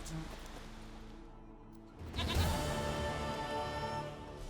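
A goat in The Witcher 3: Wild Hunt bleats over game music and ambience, with a louder bleating burst partway through.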